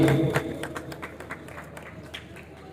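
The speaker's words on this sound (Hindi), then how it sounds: "आप सब भरपूर तालियों में इनको खुशामदीद कहेंगे" Audience at a pigeon-flying event ceremony claps in welcome, a burst of applause that starts loud and thins into scattered, fading claps.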